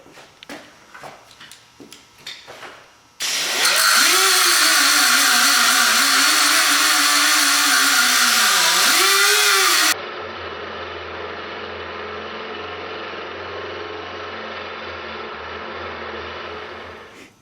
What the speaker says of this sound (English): I'm gonna have a lot easier time grinding these rivets.